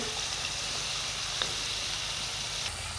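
Aloo pinwheels frying in hot oil give a steady, close sizzle with dense crackling bubbling throughout, plus a couple of brief sharper clicks.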